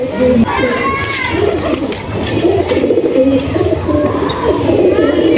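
Chotial Fulshira pigeons coo softly in a loft, their low calls close by and partly buried under someone talking, with faint background noise.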